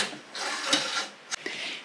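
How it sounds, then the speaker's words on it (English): Grow light fixtures on a seed-starting stand are unscrewed and slid along a metal track, giving a close, continuous scraping rub with a couple of sharp clicks partway through. "They slide along this track, and I can actually unscrew these and move them up and down"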